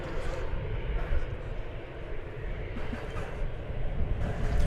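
Steady, broad jet roar from airplanes at DFW Airport fills the air as a continuous rumbling wash with no distinct events, with speech faintly present beneath.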